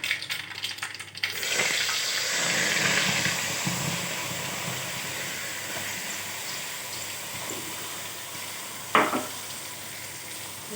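Mint and coriander pickle paste sizzles steadily in hot oil, with a loud stirring scrape at first, then a constant close hiss and an occasional clink of a utensil.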